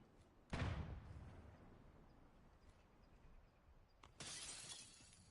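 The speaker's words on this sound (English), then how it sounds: "Ooh, glass broke." Glass shatters twice in a Black Ops 7 Search and Destroy match: a sharp close crash with a low thump, then a second bright bursting smash a few seconds later over quiet game ambience.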